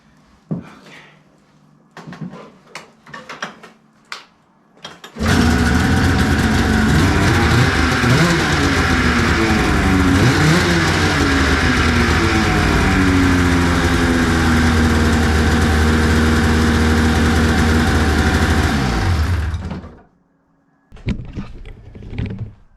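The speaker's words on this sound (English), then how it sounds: "Engine is in, running." A Polaris RMK 800 snowmobile engine starts up and runs steadily for about fifteen seconds with a rough, throbbing drone, then cuts off abruptly into quiet.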